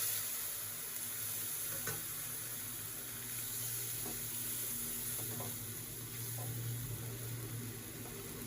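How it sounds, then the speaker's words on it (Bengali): Turmeric and chili powder water poured into a pan of lightly fried pumpkin and okra for a sour fish curry, giving a steady close sizzle with faint stirring scrapes throughout, no voices. "কুমড়ো আর ভেন্ডিটা ভাজা হয়ে গেছে হালকা, হলুদ আর লঙ্কা গুঁড়োর জলটা ঢেলে দেবো এবার।"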